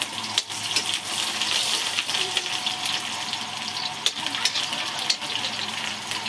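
Onion sizzling in hot oil with garlic and cumin, a steady broadband crackle with a few sharp clicks and knocks throughout, close and fairly loud, no talking.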